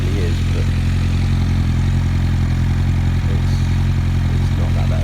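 A Honda CBR1100XX Blackbird motorcycle engine idles steadily and close by, a continuous low rumble with a light mechanical clatter, with no changes in pace across the stretch.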